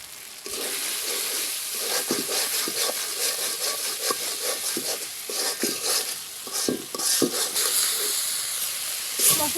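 Spices being stirred and fried in a pan with turmeric and salt for a vegetarian jackfruit curry, a steady close sizzle broken by repeated scraping strokes of a spoon, with no talking.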